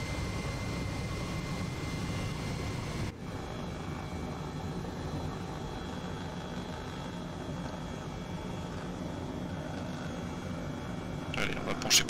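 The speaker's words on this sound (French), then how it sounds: "tu peux t'arrêter en hélico, faire du stationnaire" Simulated helicopter hovering in Microsoft Flight Simulator 2020, a steady rotor and engine drone that holds continuously at even loudness, briefly dipping once and swelling slightly near the end, with no talking.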